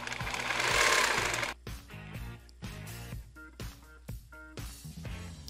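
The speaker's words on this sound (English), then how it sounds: "I like to use my sewing machine for this part." A sewing machine whirs in a fast loud burst, then stitches in shorter intermittent runs with brief pauses, close up with no talking.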